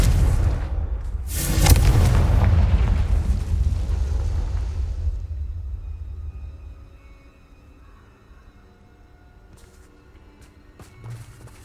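Confringo fire spell exploding in the video game Hogwarts Legacy, a sudden deep booming blast with a crackling burst that rumbles and fades out over several seconds, followed by faint ambient game sounds.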